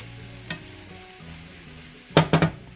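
Chopped onion dropped into a hot one-pot dinner and stirred, giving a loud burst of sizzling frying near the end after a quieter pan hiss and one earlier stir, with no talk.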